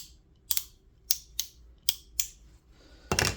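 A Tekton semi-locking flex head ratchet gives six crisp, close clicks at an uneven pace, followed by a louder, longer burst of ratcheting.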